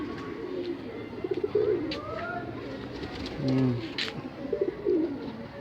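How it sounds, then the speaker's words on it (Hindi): Soft repeated cooing of a domestic pigeon kept by a fancier in a loft, several low rolling coos close by over a background of other birds chirping, with no talk. "ये कबूतर हमारा उड़ा हुआ कबूतर है, अब बहुत ही बेहतरीन कबूतर है।"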